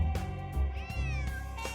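Close, clear meowing from a cat in the game Nancy Drew: Secret of the Old Clock, one long wavering cry flanked by shorter calls over soft background music.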